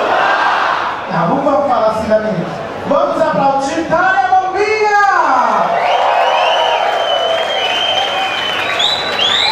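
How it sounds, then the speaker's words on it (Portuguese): Crowd applauding, cheering and whistling at an Arraiá festa junina party show at a Blue Space club, loud and continuous, with a host's voice shouting over it early on. "Vamos aplaudir, Tânia Bombinha!"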